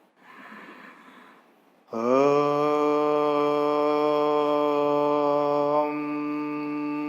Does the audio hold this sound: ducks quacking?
no